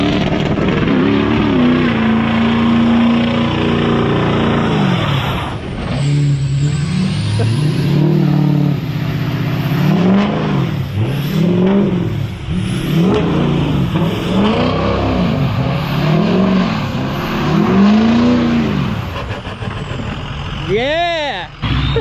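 A 6.0 Powerstroke diesel truck doing donuts, its engine revving up and down in repeated rising and falling swells, loud and close, with people talking and cheering over it.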